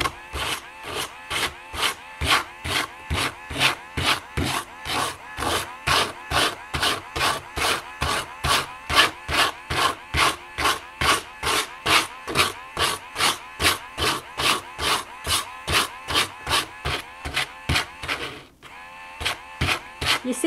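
Heavier-grit abrasive rubbed back and forth on a groove tool, a steady, close rasping rhythm of about two strokes per second, continuing with only a brief pause near the end.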